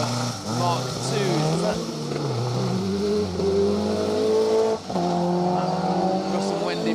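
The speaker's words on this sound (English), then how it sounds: "you can see the anti-lag fire breathing out of the back of that Celica GT4" A Toyota Celica GT4 rally car running anti-lag roars past on a historic rally stage, its engine loud and close, revving and climbing in pitch through the gears.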